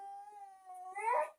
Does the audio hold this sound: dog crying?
yes